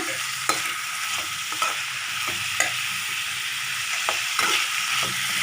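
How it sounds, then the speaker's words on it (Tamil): Onions and tomatoes fry in a pan with a loud, continuous sizzle, punctuated every second or so by crisp spatula strokes against the metal, close up and with no voices. "இது நல்லா வதங்கட்டுங்க"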